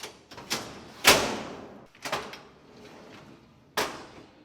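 A ball-bearing garage cabinet drawer is fitted onto its carriage and pushed shut, giving a series of sharp metallic knocks and sliding thuds, one loud clunk near the start and a final bang, close by with no talk.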